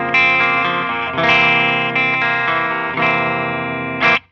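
A Mick Thomson signature electric guitar in an alternate single-coil-like voicing plays four distorted chords in a steady rhythm. Each chord rings for about a second before the next, and the last is cut short.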